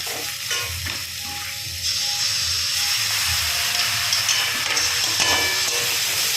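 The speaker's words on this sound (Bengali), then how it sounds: "দিয়ে ভালো মতো করে একটু নাড়াচাড়া করবে, কষাতে হবে" Spices with ginger garlic paste and dried chillies are stirred in a pan for pomfret curry, a loud, close sizzle with scraping strokes and a few clinks of the spoon against the pan.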